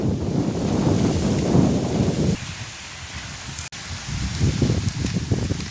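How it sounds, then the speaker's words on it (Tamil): Gusty wind swirls around an outdoor village cooking area where fish simmers in a tamarind curry, a steady broadband rush that dips briefly then returns, with leafy rustling and no talk. "காற்று தான் சுழடி அடிக்குது"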